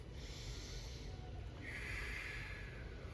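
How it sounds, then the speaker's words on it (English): Deep, steady inhale through the nose during a yoga breathing exercise, a long continuous airy rush that swells in the second half, close and alone without talk. "start off nice and deep, and then melt deeper. Inhale"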